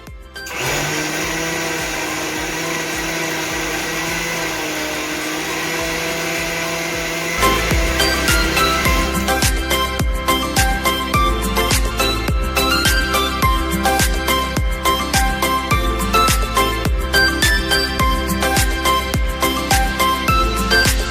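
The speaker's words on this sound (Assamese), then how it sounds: "এতিয়া মিক্সাৰ গ্ৰাইণ্ডাৰত পিচি ল'ব।" A kitchen mixer grinder whirs steadily while grinding cooked chana dal, then shifts into a louder, rougher churning with rapid rattling pulses as the blade works the paste, sustained and close throughout.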